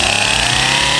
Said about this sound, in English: we used Laura's chainsaw to get rid of any trees and bushes that might be in the way